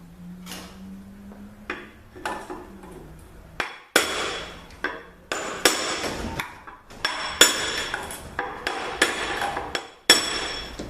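Hammering to knock out the pump of a Ford Escape or Mazda Tribute automatic transmission during a teardown: a long series of sharp metallic blows at an irregular, quickening pace, close and loud.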